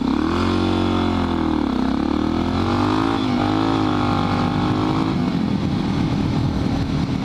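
Suzuki DR650 supermoto motorcycle engine revving close by, a loud rough single-cylinder drone with pitch rising and falling through several throttle blips before settling to a steady run.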